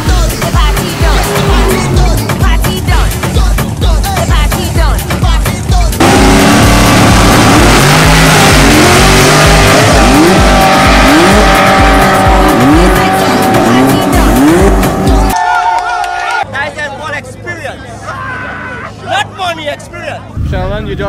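Pro Mod and rail drag racing cars roar at full throttle down a strip, loud sustained engine wail with revving and tire noise, then a sudden cut to quieter crowd babble and an announcer talking.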